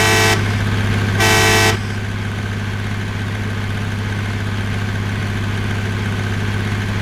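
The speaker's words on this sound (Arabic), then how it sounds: "ورجوني صوت الزمور" Tractor horn in Truck Simulator Ultimate honks twice, loud and close, over a steady low engine idle drone that continues alone afterward.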